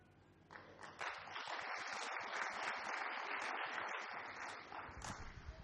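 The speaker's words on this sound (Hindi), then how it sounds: "सब लोग जोर से ताली बजाइए" An audience at a motivational talk claps loudly together, a burst of dense hand clapping that starts abruptly and holds steady for several seconds before thinning out.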